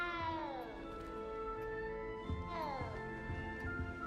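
A cat meows in the video game Hogwarts Legacy: two drawn-out, falling meows, fairly faint, over a quiet game background with soft thumps.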